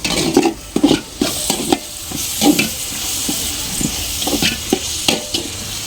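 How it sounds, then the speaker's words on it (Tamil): Chopped onions fry in a pan for a large batch of chicken curry, with steady sizzling broken by repeated scraping strokes of a spoon stirring them, close and fairly loud throughout. "வெங்காயம் நல்லா வதங்கிருச்சு."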